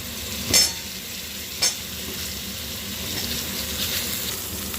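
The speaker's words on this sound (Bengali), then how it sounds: "আগে ফুলকপিগুলো আমি একটু ভেজে নেব নাড়াচাড়া করে" Cauliflower florets fry in turmeric-tinted oil with a steady hiss, opened by two sharp utensil knocks against the pan, then continuous close sizzling while being stirred, with no voices.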